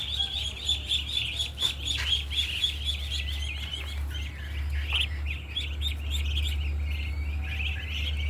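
Farm chickens call out in a string of repeated high chirping cries over a constant low rumble, moderately near and continuous, with no talking.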